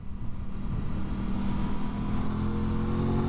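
An Aprilia RS 660 motorcycle is ridden at speed, its engine note rising and holding loud and steady beneath wind rush, with no voices.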